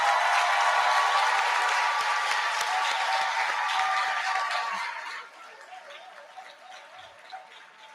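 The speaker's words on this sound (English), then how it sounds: "Give them a round of applause." A large audience at an induction ceremony for newly qualified medical and dental practitioners applauds their parents, a dense, sustained wash of clapping with a little laughter that fades to a quieter patter after about five seconds.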